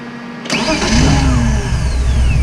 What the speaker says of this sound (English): So it idles and it dies.